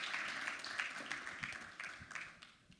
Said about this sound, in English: A big round of applause for Shubh Singh.